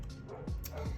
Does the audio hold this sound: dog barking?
yes